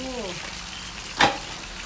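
Mackerel frying in hot oil gives a continuous soft sizzling hiss, with a brief voice at the start and one sharper spattering pop midway.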